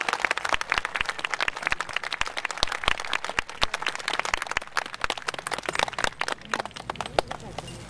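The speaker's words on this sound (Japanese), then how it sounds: "皆様の見事な演舞に今一度大きな拍手をお送りください。" A crowd clapping for a dance performance by a samurai-era retainer troupe at the Aizu Festival procession, held at Tsuruga Castle in 2015: dense, crackling outdoor applause that lasts throughout, with a voice speaking over it.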